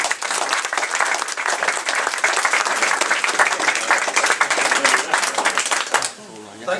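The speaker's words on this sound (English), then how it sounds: "I want you to give a rapturous applause to Mr. Bernard Dennis" Sustained audience applause greeting Bernard Dennis MBE as he takes the stage for a talk on the history of the longbow, dense steady clapping from a crowd that fades out near the end.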